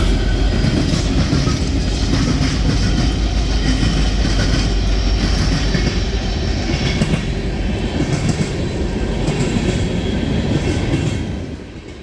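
A freight train hauled by EMD SD60 and SD70AC locomotives rumbles past in Afton, New York, a loud steady roar of rolling wagons with wheel clatter that starts to fade at the end.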